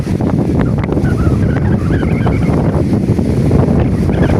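Strong wind from a storm roars into the microphone in a loud, constant buffeting rush, with a faint rumble of surf underneath.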